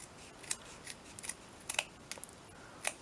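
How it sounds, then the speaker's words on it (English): Scissors snip through paper in a handful of quick, crisp cuts, spaced irregularly over a few seconds, close and quiet against a faint background. "I'm gonna cut that off. Now I can cut this."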